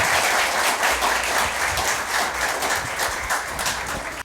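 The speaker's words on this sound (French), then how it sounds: "que je vous demande d'applaudir très chaudement" An audience at a school quiz-style match gives a warm, sustained round of applause, dense clapping holding steady for about four seconds before cutting off abruptly.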